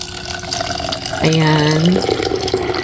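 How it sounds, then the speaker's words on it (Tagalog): Water is poured from a tap into about a tablespoon of chia seeds, a short splashing fill with a rising tone, while a voice speaks briefly over it. "Lalagyan ko siya ng tubig."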